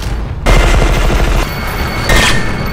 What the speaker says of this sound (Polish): Chcę wystrzelać tą broń i na jakąś inną przejść.